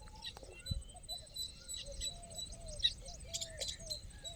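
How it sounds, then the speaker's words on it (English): Baya weaver birds chirp and twitter in a dry open landscape, with a steady high insect-like buzz underneath and scattered short calls at moderate distance. "They are the male Baya birds, and the brown ones are the female birds."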